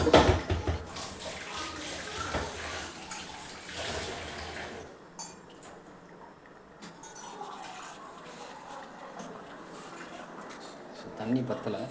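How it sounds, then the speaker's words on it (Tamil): Water pours into a pot of Tamil fish curry made with half a kilo of ayila (mackerel), a loud splashing fill that fades to a softer trickle and gentle bubbling. "தண்ணி பத்தலை, நான் வந்து தண்ணி ஆட் பண்ணிக்கிறேன்."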